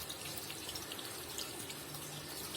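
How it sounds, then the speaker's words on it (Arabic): Water pours steadily into the tub of a Toshiba 12 kg semi-automatic washing machine with a water pump, a continuous close splashing gush with no talk. "تزويد الميه اهي"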